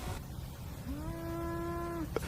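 A single faint, distant cow moo rises and holds for about a second outdoors, a thin drawn-out call over quiet background noise.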